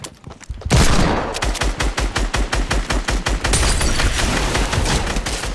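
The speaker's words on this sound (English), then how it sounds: "we're getting shot at" Rapid bursts of video game gunfire crackle in a steady, repeating rhythm, loud and close, continuing throughout without talk.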